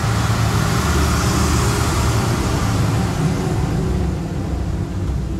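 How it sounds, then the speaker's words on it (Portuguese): A large truck rumbles past close beside a tiny car on a dusty road, a loud, steady low roar of engine and tires that dominates throughout and eases slightly toward the end. "Vai passar um caminhão grande, tá? Do lado, nossa, vai encher o carro de poeira."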